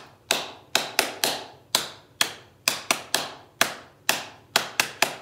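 Sharp hand claps keep time during a children's "There was a farmer had a dog" style song, about a dozen crisp, close strikes in an uneven rhythm with no voices over them.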